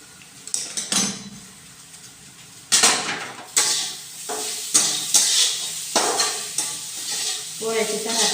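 Polis (flatbreads) roasting on a pan, with intermittent metallic clatter and scraping of utensils against the pan over a soft sizzle, close and fairly loud in separate bursts.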